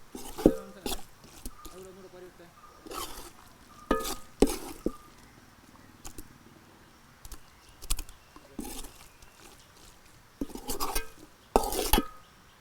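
Prawns being dry-roasted in a pan for a Kerala-style konju varattiyathu, with a faint sizzle under repeated scraping and clinking strokes of a spoon against the pan, in irregular bursts, while a voice talks quietly.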